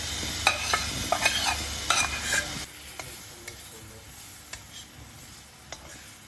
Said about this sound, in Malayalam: അതിലേക്ക് ഇട്ടിട്ട് പിന്നെ അതിൻ്റെ കൂടെ നന്നായിട്ട് അത് മിക്സ് ചെയ്തിട്ട് വറക്കുക.